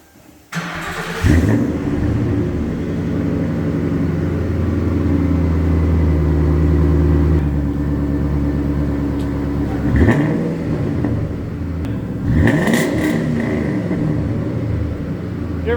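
A 2003 Mercury Marauder V8 cranks and fires up nearby, settling into a deep rumbling idle before two sharp revs climb and fall back, loud and alone.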